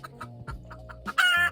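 Hens at a nesting spot on a sunny terrace, giving a short run of close, soft clucks that ends in a louder squawking call.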